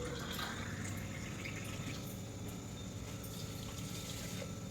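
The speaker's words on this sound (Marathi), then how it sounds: "कढईमध्ये आपण 2 ग्लास साखर घेतलेली आहे, साधारण अर्धा किलो. त्यामध्ये आपण आता पाणी घालणार आहोत." Water pours into a wok holding about half a kilo of sugar as syrup is started for khoya gulab jamun, a steady close splashing wash that runs unbroken throughout with no talk.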